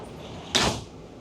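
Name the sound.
doors closing on a Catana 50 catamaran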